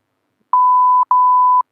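Two steady censor bleeps at a single pitch, the first about half a second long and the second slightly longer, separated by a brief gap, loud and clean over silence with no talk around them.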